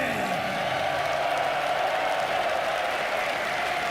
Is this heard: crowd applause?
yes